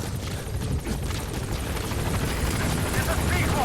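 A support helicopter in MGSV comes in to a landing zone, its rotors a loud, continuous thrumming wash that fills the whole moment while a voice speaks over it.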